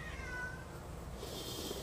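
A pet cat gives a single drawn-out meow, close by, over steady background noise.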